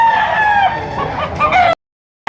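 A rooster for sale at a Batangas fowl market crows loudly and close, one drawn-out call with wavering pitch, then the sound cuts off abruptly.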